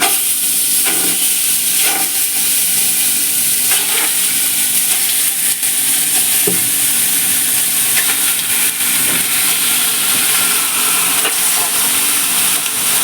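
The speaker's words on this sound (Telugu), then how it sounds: "ఫస్ట్ అయితే మటన్ వేసేసుకోండి." Mutton pieces fry in their own rendered fat in a pot for a Kuwaiti leham machboos, a steady loud sizzle and hiss with occasional scraping stirs throughout, no talking.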